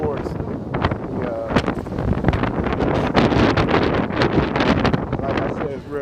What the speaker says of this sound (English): like I said, it's real windy